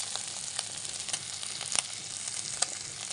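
Food frying in a pan, a steady broad sizzle with a few sharp pops and spatters scattered through, close and continuous with no voices.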